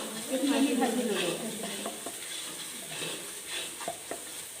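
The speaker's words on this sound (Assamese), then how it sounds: "আদা পিঁয়াজ নহৰু এইখিনি আমি ভাজি ল'লোঁ" Ginger, onion and garlic sizzle in a pan for a meat pickle while a spoon stirs them, the frying loudest at first, then settling into a softer crackle with scattered scrapes and clinks, no talking.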